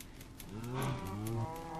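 A cow mooing in Minecraft, a pair of drawn-out, low game moos rising and falling in close succession, loud and clear with no talk over them.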